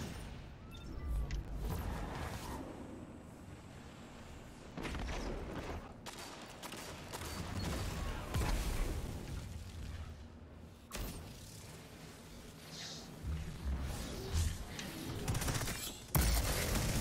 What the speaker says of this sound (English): Again, with the fusion rifle.